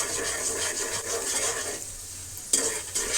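Onion frying in a home kitchen pan until reddish, a steady close sizzle with stirring scrapes and faint clinks of utensil against pot, a brief louder burst near the end.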